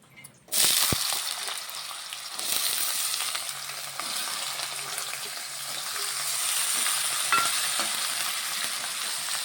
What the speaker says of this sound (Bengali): এখন এখানে আমি আলুগুলো একটু ভেজে নিচ্ছি